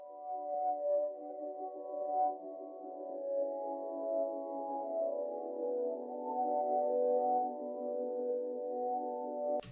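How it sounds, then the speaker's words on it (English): A soft, sustained synth pad plays chorus chords in an RnB beat, holding a warm layered tone at low volume for about ten seconds before cutting off abruptly. "Then for the main chorus part, I did like this synth pad,"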